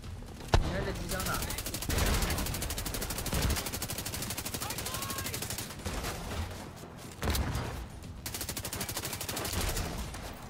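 Machine gun fire rattles in rapid sustained bursts with scattered louder shots in a New York firefight in the video game The Division 2. Players talk over the shooting.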